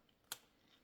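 A single crisp snip of scissors through paper while making a handmade pop-up card, one brief sharp cut alone against near silence.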